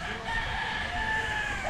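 A gamefowl rooster at the AEJ gamefarm crows once in a drawn-out, fairly steady call lasting well over a second, heard moderately close against a noisy outdoor background.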